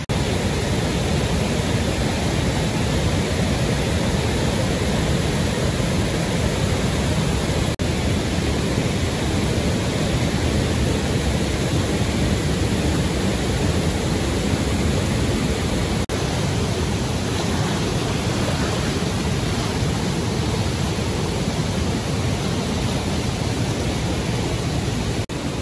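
Floodwater roars down a high-running river in the Great Smoky Mountains near Gatlinburg, a loud, unbroken broadband rush that stays steady and close, with no voices throughout.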